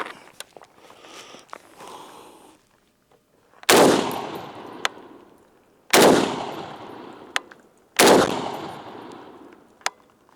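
Three loud, close rifle shots from a SOCOM 16 ring out at about two-second intervals, each with a sharp crack and decaying tail, after a few soft handling and shuffling noises.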